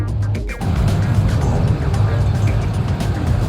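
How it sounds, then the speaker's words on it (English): A supercharged Dodge Neon drives past at a car meet with a steady, loud engine roar held close by, while people talk over it. "That's a supercharged neon right there."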